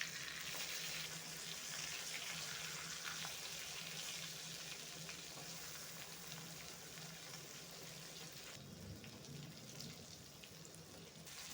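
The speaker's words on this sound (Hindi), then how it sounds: "अभी मैं बैगन का दूसरा साइड भी फ्राई करेंगे।" Eggplant slices frying in a pan, a steady dense sizzle holding evenly throughout, close and moderately loud with no talking.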